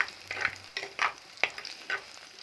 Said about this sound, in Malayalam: 3 ഉണക്കമുളക് നടുവേ മുറിച്ചത്, വെളുത്തുള്ളി 5 എണ്ണം ചതച്ചെടുത്തത് എന്നിവ ചേർത്ത് 4-5 സെക്കൻഡ് മാത്രം ഇളക്കി